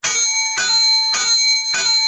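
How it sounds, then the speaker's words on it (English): A bell struck four times in a steady rhythm as a sound effect, each ring bright and sustained, loud and alone with no talk. "So I'm giving you a quad bell."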